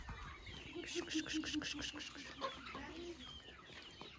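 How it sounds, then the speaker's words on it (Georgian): Chickens being fed in a village yard cluck in a quick run of short, repeated calls near the listener, with scattered farmyard clucks continuing afterward; no one speaks. "აჭმევს ქათმებს"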